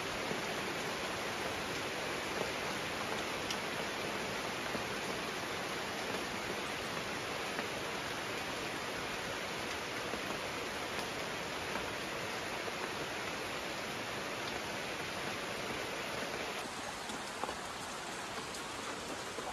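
Steady rain comes down for a long stretch, a thick, uniform wash of drops pattering on surfaces nearby, constant in loudness and free of talk.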